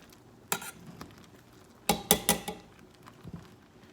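Cooked cranberries being mashed in a pot for sauce make a few soft thuds and clinks of a utensil against the pot, with a cluster of quick knocks in the middle, close by and without talk.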